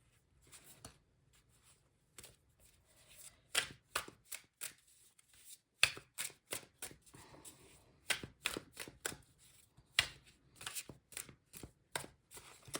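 Tarot cards are shuffled by hand, making quiet, uneven bursts of papery riffles and slaps with short pauses between them. The sound is close but faint.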